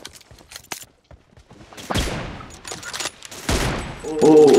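Rapid gunfire bursts from the BGMI mobile battle-royale game in an M24 sniper team deathmatch, with cracking shots and volleys scattered across the clip and a louder tonal burst at the end.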